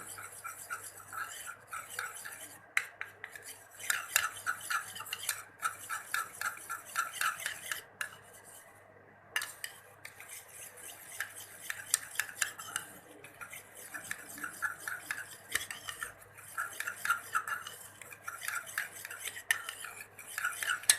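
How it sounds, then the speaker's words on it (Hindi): A spoon clinks and scrapes steadily in a small bowl as homemade anti-wrinkle serum ingredients are mixed with the contents of a vitamin E capsule, in quick, repeated strokes with a few short pauses. "इन सारी चीज़ों को अच्छी तरह से मिक्स कर लें।"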